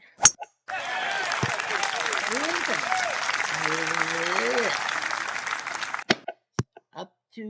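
Golf spectators applaud in a sustained round of clapping. A voice talks over it, and a few sharp knocks follow once the clapping ends.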